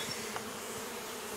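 A steady, dense hum of many bees buzzing close by, continuous throughout with no talking.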